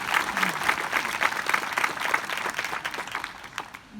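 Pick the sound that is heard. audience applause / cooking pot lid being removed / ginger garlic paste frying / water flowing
audience applause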